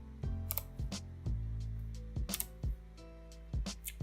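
Several separate key presses on a havit GAMENOTE HV-KB390L low-profile keyboard, each a soft low click with a brief tap, spaced apart and fairly quiet, with no talking.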